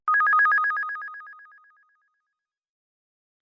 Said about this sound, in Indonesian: Telepon dari Fusihan. Lebih baik ku angkat agar tidak ketahuan olehnya.